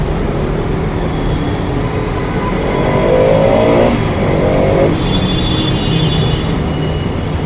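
Heavy road traffic in a polluted Indian city heard from a moving bike: a constant loud rumble of engines and tyres, with a vehicle revving and accelerating nearby midway.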